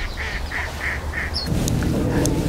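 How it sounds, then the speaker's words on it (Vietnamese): Muscovy ducks quack several times in a short, even series outdoors, followed by a burst of louder, mixed bird calls and rustling. "Có vài con vịt xiêm chứ."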